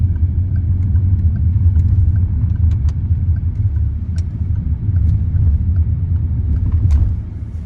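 A Peugeot 308 Allure Phase II with the 1.2 THP PureTech 130 hp petrol engine, driven briskly on the road, gives a steady, close low rumble of engine and road noise from start to finish with no voices.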